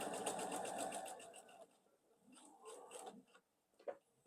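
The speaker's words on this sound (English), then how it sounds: "I'm going to sew from here and I'm going to stop before I get to my pins" Sewing machine stitching a quilt block, a loud continuous rapid stitching run for about a second and a half, then stopping, followed by quiet handling clicks and fabric rustle.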